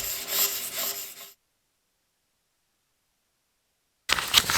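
A knife is drawn across a whetstone in a quick run of close, gritty rasping strokes, then silence for nearly three seconds before the scraping resumes briefly.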